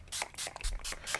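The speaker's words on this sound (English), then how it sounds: "I'm going to get my distress spray stains" Distress spray stain is spritzed over a plastic placemat in a craft project: four or five quick, quiet hissing bursts close to the mic, evenly spaced, with no voice.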